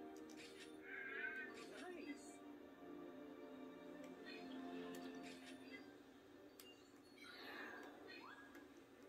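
A cat meows in the Nintendo Switch game New Pokemon Snap, a few soft calls mixed with other game wildlife and ambience while a person talks over the scene.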